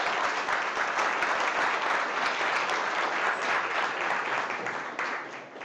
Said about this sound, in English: worth a big round of applause for Feeding Tampa Bay